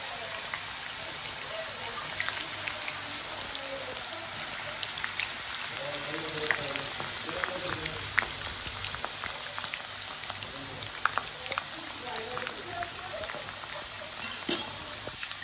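Mango pieces for a sweet-and-sour pickle fry in oil while being stirred, a continuous dense hiss and bubbling sizzle with scattered faint pops and scrapes, close up and steady throughout.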